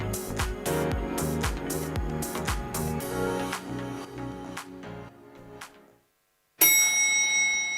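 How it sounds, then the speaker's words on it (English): After a stretch of rhythmic music and a brief silence, a timer bell at an architecture awards presentation rings once, bright and sustained, then rings on as it fades. "Timer, can we ring the bell once?"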